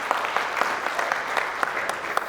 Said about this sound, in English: So please clap for yourselves.